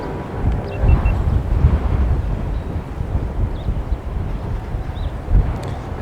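Gusting wind outdoors on a farm field by a cattle fence, rumbling and buffeting against the microphone in uneven surges for the whole clip.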